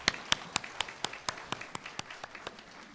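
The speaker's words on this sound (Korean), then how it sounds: "한번 큰 박수로 격려 한번 해주시기 바랍니다." Church congregation clapping for scholarship students at a Sunday worship service, a steady rhythm of separate sharp claps that thins out over three seconds.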